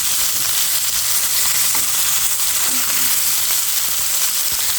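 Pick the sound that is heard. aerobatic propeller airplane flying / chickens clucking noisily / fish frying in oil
fish frying in oil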